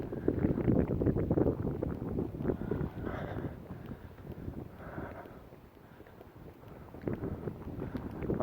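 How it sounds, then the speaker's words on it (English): Outdoor wind buffeting a microphone near old woods and a retaining wall, a loud, rumbling low roar that gusts up and down throughout, easing in the middle before surging again. "Sorry about the wind."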